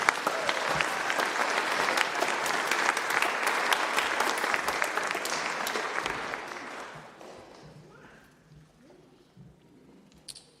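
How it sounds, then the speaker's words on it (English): Audience at a junior high and high school band concert applauds the student performers: loud, dense clapping for about seven seconds that then thins out and fades into quiet room noise. "We give these students a round of applause."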